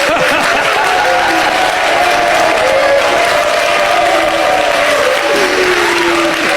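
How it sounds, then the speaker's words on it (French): A large football crowd applauds and cheers continuously for a returning player, loud and dense, with whistles and shouts rising over the steady clapping. "Le bruit pour Wilfried Zaha"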